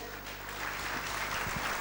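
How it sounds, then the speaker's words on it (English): Applause from the guests at a corporate anniversary celebration for award recipients, steady, distant and fairly faint over a low hum. "A big round of applause for them again."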